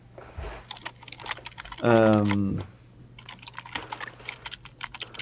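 A computer keyboard clacks with quick, uneven keystrokes in short clusters, close and moderately loud, mixed in with someone talking.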